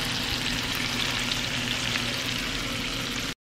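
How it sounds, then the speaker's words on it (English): Shrimp frying in sizzling butter in a pan, a loud steady crackling hiss heard up close without pause until an abrupt cut at the end. "the butter, as you can see, is sizzling"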